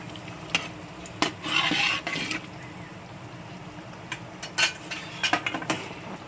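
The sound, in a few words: salted mackerel added to curry pan and stirred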